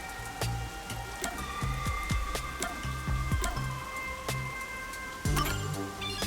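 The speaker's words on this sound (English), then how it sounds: "The rain just won't stop, huh?" Soft patter of rain in the video game Rain Code, with scattered crisp drips and taps, steady and close, over a faint background tone.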